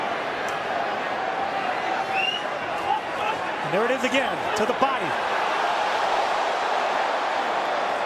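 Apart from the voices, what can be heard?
boxing arena crowd cheering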